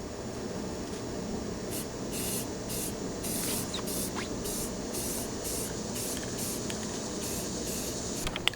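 Aerosol spray can laying a second coat of paint onto a housing, a steady close hiss of spraying broken into repeated short bursts, with no talking.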